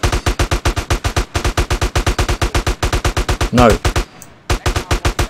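M4 rifle fire in GTA San Andreas, a loud, close, steady rapid burst of shots in long strings with a brief pause and a short reload, and a single spoken word partway through.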